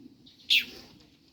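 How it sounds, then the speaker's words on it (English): A bird gives one loud, sharp call that stands out briefly against a quiet background, with a faint low rumble underneath. "The bird is really loud."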